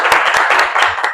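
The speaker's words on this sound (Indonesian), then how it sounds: "tepuk tangan buat Mas Valdan." Students in a classroom clap briefly, a short burst of close, loud hand claps with a few distinct slaps standing out over the brief patter.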